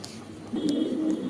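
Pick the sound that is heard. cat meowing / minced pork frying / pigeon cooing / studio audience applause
pigeon cooing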